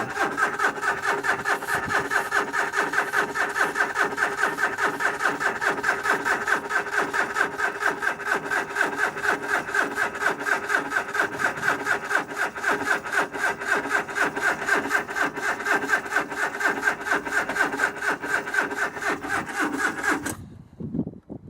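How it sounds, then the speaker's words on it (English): An Alpine car engine cranking on a weak starter, a long unbroken run of rhythmic churning turnover that never catches, close and loud, then cutting off abruptly near the end. "I think the starter's just a bit too weak."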